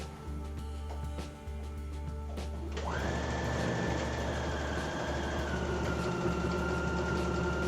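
A sewing machine stitching the shoulder line and side seam of a costume torso, running as a steady whirring hum that rises in speed partway through and holds constant.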